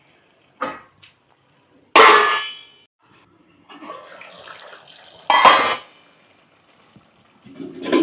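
A metal lid is set on a pan of Telangana-style chicken fry cooking over a low flame, giving two loud, close clanks separated by softer rattling and shuffling.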